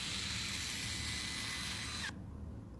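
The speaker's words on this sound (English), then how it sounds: "You can also turn that sound completely off, in which case the motor by itself sounds like this." The motor of a rollable smartphone unrolling its screen with the sound effects off gives a faint, steady, high mechanical whir for about two seconds before stopping abruptly, leaving a low background hum.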